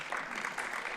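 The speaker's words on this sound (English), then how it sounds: "please give her a round of applause too" Lecture audience at a public and urban affairs award event claps for an internship award winner, a brief, dense patter of many hands at an even, moderate level.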